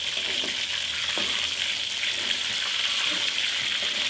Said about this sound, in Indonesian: Mes gorengkan ayam dulu dengan minyak ya.